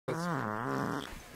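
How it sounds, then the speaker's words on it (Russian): A single long, loud fart with a wavering, buzzy pitch, sustained for over a second and trailing off at the end, heard alone with no talk. "как чел слушает пердеж за деньги"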